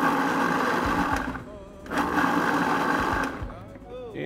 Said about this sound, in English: Now we're gonna process this, but more on a pulse than puree,